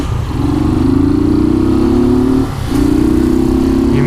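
A 150cc motorcycle engine with a strange noise runs close and loud, a steady droning whine that rises slightly, dips briefly and resumes at the same pitch, with no talk.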